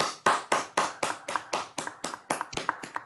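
About a dozen sharp hand claps ring out in an even, quick rhythm, close by, each fading briefly before the next.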